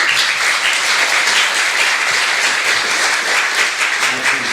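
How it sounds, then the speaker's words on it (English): An audience in Dublin gives loud, sustained applause welcoming the Lord Mayor at a policy launch event, with dense, even clapping that holds steady from start to finish. "Don't hold back on the applause."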